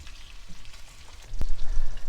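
Cabbage and bacon frying in a pan over a camp stove, a steady close sizzle that grows louder partway through, with a brief sharp clink near the middle.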